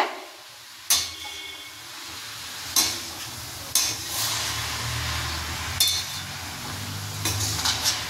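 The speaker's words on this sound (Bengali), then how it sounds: "এখন নেড়ে শাক মশলা ভালো করে মিশিয়ে" A utensil stirs red amaranth greens with spices in a frying pan, scraping and clanking against the metal in sharp, sparse knocks over a continuous low sizzle, close by and without speech.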